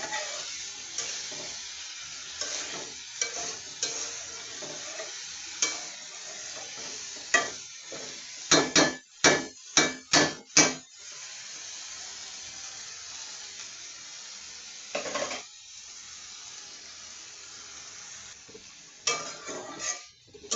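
Beans, potato and broccoli fry in a pan with a low, steady sizzle, broken by a quick burst of spatula scrapes and clanks against the pan midway and a few more near the end.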